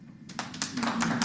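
Scattered hand clapping from a few people at a city council finance committee meeting, brief and moderately close over a steady low room hum.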